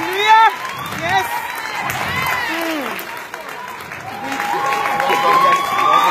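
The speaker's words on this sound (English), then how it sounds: "Can you all give her a round of applause?" Guests at a Nigerian bride's wedding reception applaud and cheer in a lively crowd, clapping swelling toward the end while voices call out over it.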